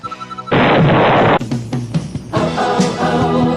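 A loud explosion effect in a landmine parody advertisement bursts in suddenly, then rumbles and crackles with several follow-up booms, with no talking.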